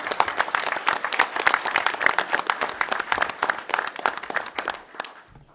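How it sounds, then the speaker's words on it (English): An audience at an off-site public works board meeting claps in a sustained round of applause, many hands dense and lively for about five seconds before tapering off at the end. "So let's give them all a huge round of applause."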